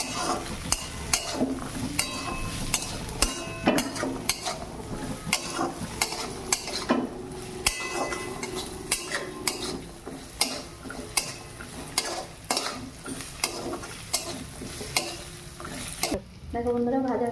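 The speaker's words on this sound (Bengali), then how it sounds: "আদাটা গ্রেট করা আদা আছে, এটাও আমি এখানে দিয়ে দেবো, তেলের মধ্যে ভেজে নেব।" Grated ginger fries in oil while a spatula repeatedly scrapes and taps the pan, making regular sharp clinks over a constant close sizzle.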